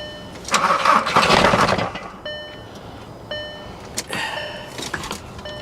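A diesel Nissan Armada engine cranks and catches with a loud rush for about a second, then quickly dies, followed by quieter clicks and mechanical clunks with faint electronic chimes.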